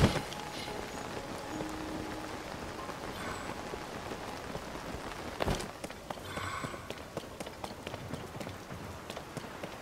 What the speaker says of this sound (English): It's raining, but I'm outside.